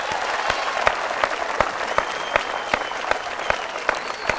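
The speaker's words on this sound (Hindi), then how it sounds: "तालियां इनका" Studio audience applauding on a Bhojpuri quiz show set, a dense steady wash of clapping with sharper individual claps standing out, fairly loud and continuous throughout.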